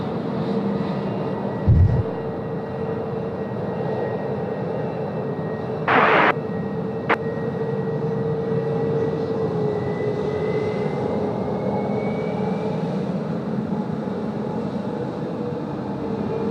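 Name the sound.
United airliner taking off from Sydney runway 16 right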